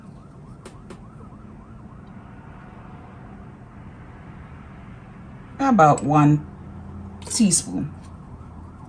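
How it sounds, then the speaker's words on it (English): A fire engine or ambulance siren wails outside in a kitchen setting, a faint oscillating tone early on, then two louder rising bursts, with a person speaking nearby. "Just waiting for the fire engine to pass, or the fire ambulance."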